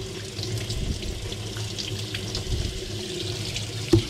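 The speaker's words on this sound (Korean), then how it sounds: "닭을 여기서 한번 물로 샤워를 시켜줄게요." Tap water runs steadily into a kitchen sink as a whole chicken is rinsed, a continuous splashing stream with small clunks and a sharp knock near the end, close and moderately loud.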